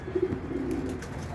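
A homing pigeon gives a short, soft, low cooing call close by, a couple of quick pulses followed by a brief murmuring trill, quiet overall.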